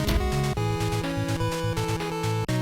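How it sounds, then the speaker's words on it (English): Electronic video game soundtrack music from Street Fighter X Mega Man, a loud, continuous chiptune-style track with a steady bouncing bassline and bright layered melody, no voices. "this is the soundtrack to Street Fighter Cross Mega Man"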